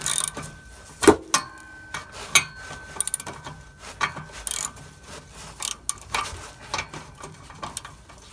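A hand wrench works loose a bolt on a catback exhaust of an Acura RSX, no air or electric tools; repeated sharp metallic ratchet clicks and clanks come in irregular bursts, close and fairly loud, with no talking.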